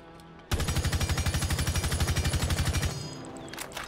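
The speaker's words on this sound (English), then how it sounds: "so now we're going to do a full mag dump." An LMG in the video game Rainbow Six Siege firing a full magazine as one rapid, even burst of loud shots lasting about two and a half seconds, then a brief fading tail.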